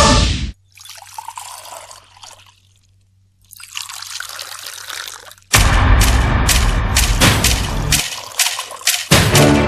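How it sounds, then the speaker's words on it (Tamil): Hot water poured back and forth between vessels to cool it, heard as repeated splashing, dripping pours in bursts with quiet gaps between, then louder, busier clattering pours toward the end, close by with no talk. "அதுக்காக தான் சுடு தண்ணி ஆத்திட்டு இருக்கேன்"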